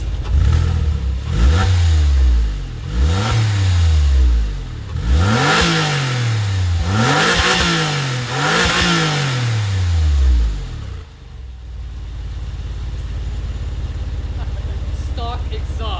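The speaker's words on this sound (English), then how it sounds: "Stock exhaust." A 2001 Porsche 911 Carrera 4 (996) on its stock exhaust revs hard five or six times in close succession, each rise and fall loud and near, then settles into a steady idle.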